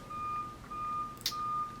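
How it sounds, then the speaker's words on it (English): A truck outside a window sounds its reversing alarm, three steady electronic beeps at an even pace, muffled through the glass, with a brief sharp click between the second and third. "sorry for the beeping, there's a truck outside my window."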